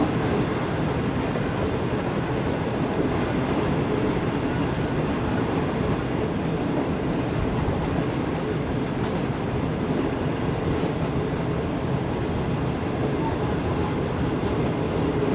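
The Shalimar Express runs on the Karachi to Lahore line, and a dense, loud, continuous rumble of wheels on rails fills the clip with no break.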